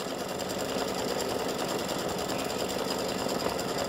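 An embroidery machine stitching a get well soon line design onto fabric for a greeting card, a loud, continuous rapid needle clatter heard up close with no pauses.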